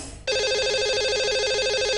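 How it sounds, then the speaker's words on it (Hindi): A telephone rings steadily on the line while a radio show connects its lucky caller, the electronic warbling tone starting after a brief quiet moment and continuing loud and unbroken, with no voices. "लगाते हैं इन्हें कॉल और करते हैं इनसे बात।"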